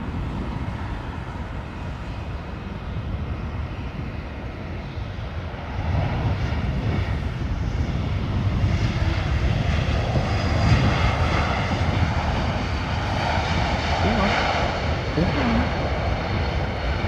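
Airliner jet engines at London Heathrow spool up for reverse thrust during a wet, windy crosswind landing, a broad steady roar that swells louder about midway and holds, with wind and rain noise behind it.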